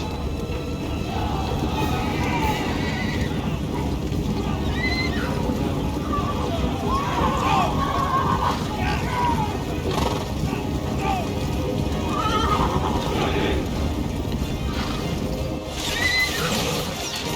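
Cavalry of the white horse followers marching in Total War: Three Kingdoms, with horses whinnying and neighing over a steady, dense battle din of hooves and army noise that runs throughout.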